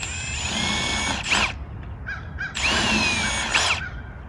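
A power drill bores holes in a bird gourd, with two close, loud whirring bursts and short pauses between them, each ending in a rising squeal as the bit spins down.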